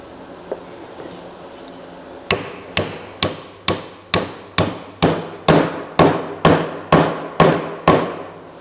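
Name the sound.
hammering dowel pins into wooden rocking chair joint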